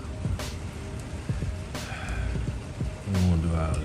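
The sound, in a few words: rain falling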